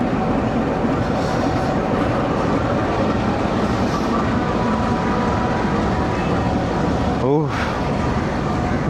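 Train passing at Wazirabad Junction railway station, a steady loud rumble and rattle of wagons close by across the whole stretch, with a brief whoosh near the end.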